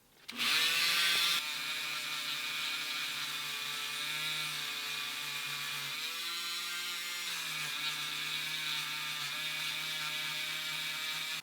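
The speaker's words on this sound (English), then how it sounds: "I'm going to switch it up into one of these little polishing wheels now." A high-pitched rotary tool with a cloth polishing wheel, polishing a vintage 1:64 Matchbox Firebird model car, whines steadily, louder for the first second and then holding an even, continuous buzz with slight pitch dips.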